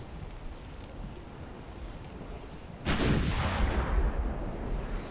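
A warship's rear guns fire in a naval battle video game: a sudden loud boom cuts through steady wind and ocean wash, then a rumbling roar slowly fades.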